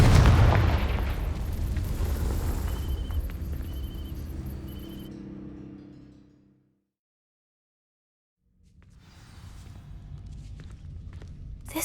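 Confringo spell in Hogwarts Legacy setting dry vines alight: a loud, booming fiery burst at the start with crackling burn that fades over several seconds into silence, followed by quieter game ambience.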